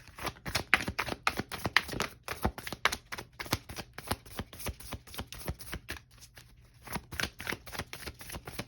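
A Moonology oracle card deck is shuffled by hand close up, giving a rapid, uneven run of crisp card riffles and slaps with a short pause near the end before the rhythm resumes.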